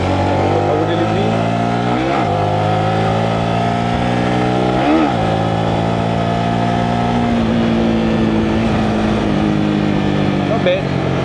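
A Honda RS-X 150 motorcycle engine revs up and climbs in pitch, loud and close, with several rising surges over a steady running drone.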